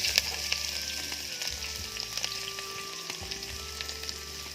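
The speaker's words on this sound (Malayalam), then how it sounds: "അതിനുശേഷം നമ്മൾ ഇഞ്ചി വെളുത്തുള്ളി പേസ്റ്റ് ഇടുകയാണ്." Crushed ginger and garlic paste fries in a pan with curry leaves already sizzling in it, a steady close crackling sizzle that holds for several seconds, alone and without voices.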